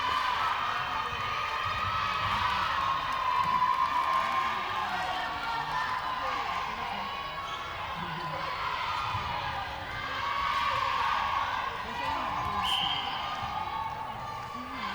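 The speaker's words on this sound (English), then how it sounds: "We can hear them cheering and supporting their team." Crowd noise at an international youth netball match between Trinidad and Tobago and Grenada, a steady, loud wash of cheering and shouting spectators that swells and dips throughout, with a brief whistle-like tone near the end.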